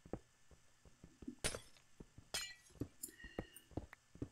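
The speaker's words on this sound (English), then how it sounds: "I like that sound of the glass makes when it shatters." Glass blocks shatter in the Minecraft video game, a series of sharp crisp breaking and clinking bursts over scattered clicks and light taps.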